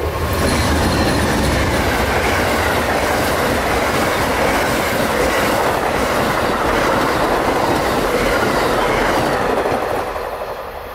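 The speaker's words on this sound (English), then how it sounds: "Here was the southbound Silver Star number 91 coming past the cut crossing at Browning Road" Southbound Amtrak Silver Star number 91 passenger train passing the Browning Road crossing in Florida, a loud, steady rush of rail cars with continuous clickety-clack wheel rhythm and some squeal, sustained at close range for the whole span.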